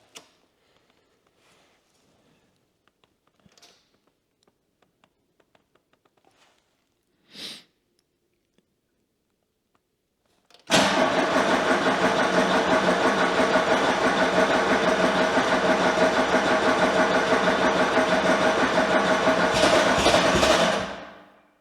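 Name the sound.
DIY mini loader engine starting and idling, alternator belt slipping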